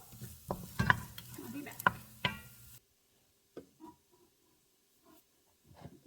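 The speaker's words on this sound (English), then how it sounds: "while the garlic and onions are cooking" Garlic and onions fry in a pot for chicken and rice soup, with a few brief sizzles and the knocks of a stirring utensil early on, then quiet with scattered soft clinks, and a short spoken line from a nearby voice.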